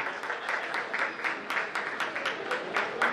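Applause from an audience at an event honouring state- and national-level table tennis players, steady and moderately distant, with many hands clapping in a continuous wash for about three seconds.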